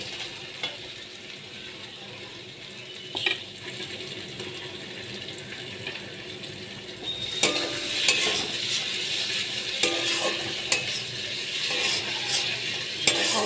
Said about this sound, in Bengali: ভেজে রাখা আলুগুলো এবার দিয়ে দিচ্ছি